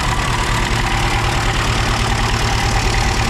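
Ferguson TEF20 tractor engine idling steadily and loudly up close, running a bit rough with a continuous low chugging throb and no pauses.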